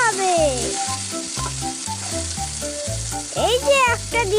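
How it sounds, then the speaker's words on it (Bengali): Cauliflower pakoras frying in hot oil, a steady close crackling sizzle that swells slightly as more battered pieces go in, with music playing underneath. "এবার একটা একটা করে তেলের মধ্যে ছাড়তে হবে।"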